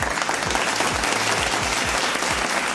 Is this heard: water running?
no